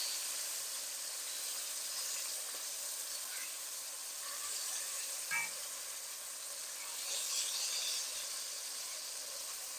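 A big piece of chicken fries in a hot pan, giving a steady, soft, close sizzle and hiss that runs unbroken throughout, with slight swells and a few faint pops.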